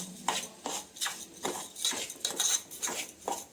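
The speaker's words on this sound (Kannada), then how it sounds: "ನೆಕ್ಸ್ಟು ಇದು ಎಲ್ಲವನ್ನು ಮಿಕ್ಸ್ ಮಾಡಿ ಚೆನ್ನಾಗಿ ಹುರ್ಕೊಳ್ಳೋಣ ತುಪ್ಪದಲ್ಲಿ" Metal spoon scraping and stirring a prasad laddu mixture being roasted in ghee in a pan, a steady series of close, rhythmic scrapes and clinks with no voices.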